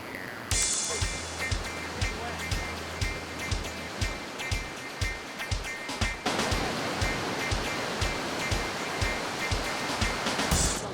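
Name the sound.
sea waves while wading out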